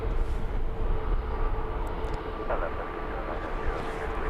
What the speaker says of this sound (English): That being a Falcon 7X off to Zurich.